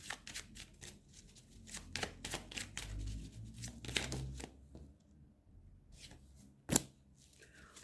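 Playing cards being drawn and slid from a deck, a quick run of close, crisp flicks and riffles, then a pause and one sharper snap near the end.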